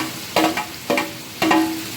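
Chopped tomatoes sauté in a hot pan for radish kootu, with three distinct stirring scrapes that each set off a burst of sizzle, and a steady frying hiss continuing between the strokes.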